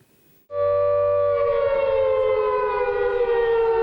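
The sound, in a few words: air raid siren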